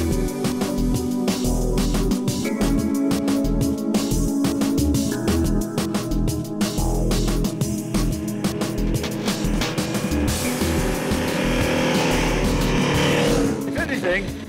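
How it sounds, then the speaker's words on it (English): A KTM 1190 Adventure motorcycle's exhaust drones steadily at riding speed, loud and close throughout, with wind and road noise mixed in. "Once on the move, the exhaust note is slightly disappointing"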